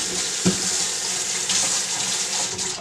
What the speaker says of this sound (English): Always make sure you rinse after you dye.